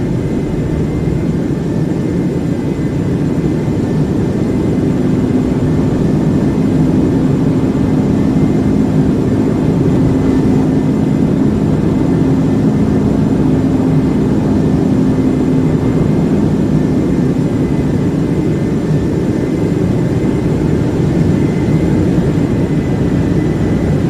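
Qantas Boeing 747 Classic jet engines roar steadily during the departure climb out of Sydney bound for San Francisco, a loud continuous low rumble with a faint tonal whine heard from inside the cabin.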